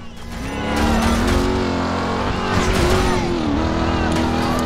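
A Chevrolet Camaro SS engine in the video game Driver: San Francisco drones steadily with rising and falling pitch as it revs and shifts, loud and continuous, with a faint voice underneath.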